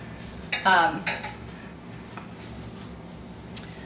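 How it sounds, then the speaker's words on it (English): A hot metal cake pan is set down with a few clattering knocks close by, followed by quiet room tone and a single light tap later. "I will put the pan down because it's very hot"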